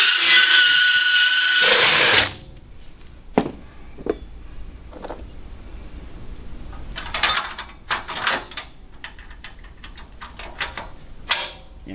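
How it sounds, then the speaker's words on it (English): A power drill fitted with a burr bit whines loudly and steadily for about two seconds as it grinds a rack-and-pinion steering conversion part. Quieter scattered taps and handling clatter follow. "we're going to use a burr on our drill"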